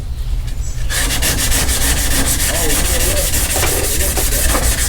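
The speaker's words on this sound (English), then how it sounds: "Then I take some sandpaper by hand" Close, loud back-and-forth scrubbing of sandpaper by hand on car bodywork. A quiet start gives way to a dense, steady rasp with a quick rhythmic stroke pattern that continues to the end, with no voices.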